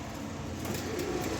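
A large male Shoukik pigeon coos steadily and close by, a continuous low murmuring call with no talk over it.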